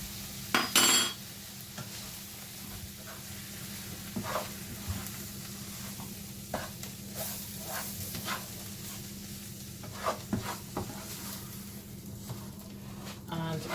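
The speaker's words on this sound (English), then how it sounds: "Basically what we're doing is making a roux sauce with the oil and such" Flour stirred into hot oil in a pan for a roux: a steady soft sizzle with scattered spoon scrapes and clinks against the pan, and a couple of sharper knocks, with a person talking over it.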